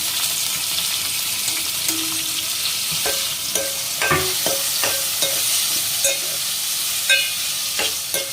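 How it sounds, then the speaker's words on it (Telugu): Chopped tomatoes frying in a pan for brinjal and egg curry, a continuous close sizzle with repeated scraping stirs of a spoon against the pan, no voices. "బ్రౌన్ కలర్ వచ్చిన తర్వాత తరిగి పెట్టుకున్న టమాటాలు వేసుకున్నాం"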